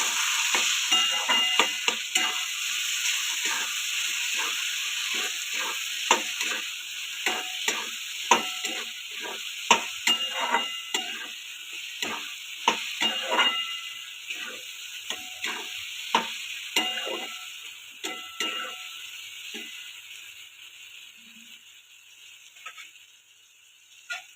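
A spoon stirs egg bhurji curry with red chilli powder and salt in a pan, giving steady close scraping strokes over a continuous frying hiss that thins out toward the end.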